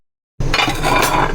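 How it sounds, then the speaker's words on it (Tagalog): Dishes being washed, with a sudden start into steady clinking and clattering of plates and utensils, close and fairly loud, no talking. "maghuhugas ulit ako ng pinggan"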